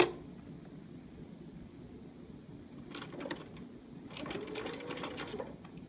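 A sewing machine stitches a rolled hem in a few short bursts of soft mechanical whirring, faint and close in an otherwise quiet room.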